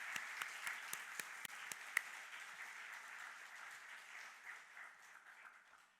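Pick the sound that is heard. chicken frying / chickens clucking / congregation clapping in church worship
congregation clapping in church worship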